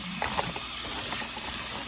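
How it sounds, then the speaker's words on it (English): Cabbage is rinsed under cold running water, a short stretch of steady gushing and splashing at close range with a few brief sloshing bumps, and no voices. "On this cold water, go ahead and rinse my cabbage."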